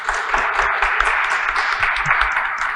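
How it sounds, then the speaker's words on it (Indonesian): Applause for Indonesian children during a literacy event: a small group clapping in a quick, uneven patter that runs steadily throughout, fairly close and moderately loud. "Itu tepuk tangan dong untuk anak Indonesia."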